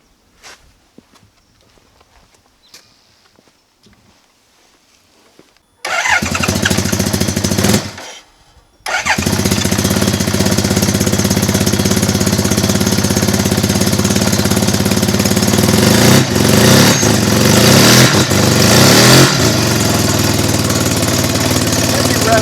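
A Suzuki RE5 rotary motorcycle engine starts after a quiet stretch and runs loud and close with a steady, even pulsing, briefly cutting out before roaring on continuously.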